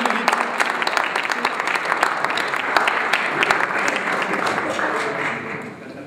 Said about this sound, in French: Mais c'est petit applaudissement, ils le méritent.